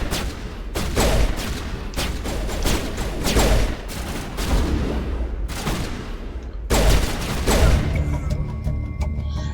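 Sustained gunfire bursts in a Mass Effect firefight, several loud volleys of rapid shots separated by short pauses, dense and close with no talk over them.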